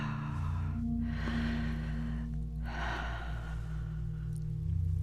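A long, deep breath drawn in and released slowly during a guided meditation, audible as soft airy inhale and exhale over a low steady background drone.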